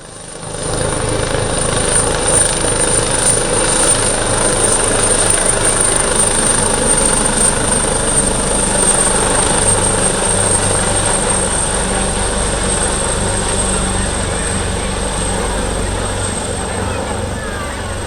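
An Italian Coast Guard rescue helicopter makes a flypast at an airshow, a loud sustained rotor-and-turbine roar with a high whine that holds steady and slowly fades toward the end.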